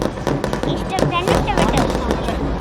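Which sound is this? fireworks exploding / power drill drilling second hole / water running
fireworks exploding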